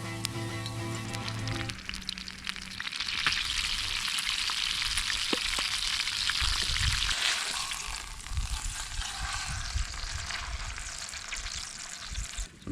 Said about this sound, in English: I like to fry the onions up and then we'll cook the steak in the same pan with the leftover oil.